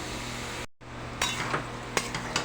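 Spice paste of ground chilli, cumin, ginger and whole garam masala frying with potatoes in a pan, a steady close sizzle broken by a brief dropout, then scattered stirring scrapes and clinks.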